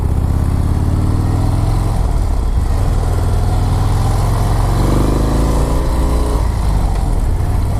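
Harley-Davidson Low Rider S motorcycle engine running at low RPM, a loud, steady low throbbing rumble that holds throughout with no talking.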